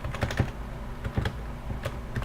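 A password being typed on a computer keyboard: a few quick clusters of close, crisp key clicks with short gaps between them.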